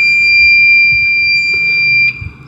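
A digital multimeter in continuity mode gives a steady, loud, high-pitched beep as its probes touch a capacitor terminal on a dead Tenda O3 outdoor router board. The tone holds for about two seconds, then cuts off.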